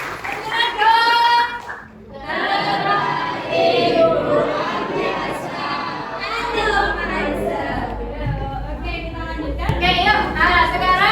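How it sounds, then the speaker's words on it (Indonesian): Classroom of students applauding together, a steady wash of clapping mixed with children's chatter and shouts, fairly close and lively throughout. "tepuk tangan untuk kalian semua"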